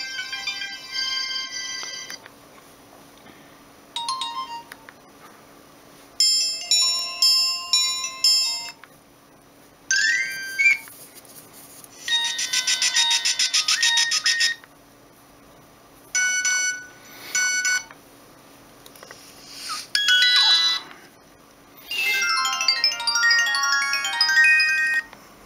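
A Nokia 1280 mobile phone plays a string of separate monophonic ringtone and alarm melodies, each a bright, beeping synthesized tune lasting a few seconds, loud and clean with short gaps between them.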